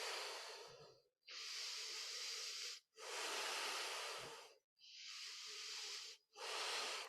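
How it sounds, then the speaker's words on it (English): Slow, deep yoga breaths drawn in and pushed out through the airways, four long hissing cycles with brief pauses between, close and alone. "Inhale and exhale."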